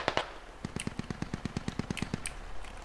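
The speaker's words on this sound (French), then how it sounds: "Ça vient d'où les tirs?" A rapid, evenly paced automatic burst of about a dozen shots in a war video game, fairly faint and distant, preceded by a couple of sharper cracks.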